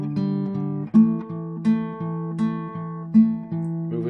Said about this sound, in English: 2 open strings will give you a fourth.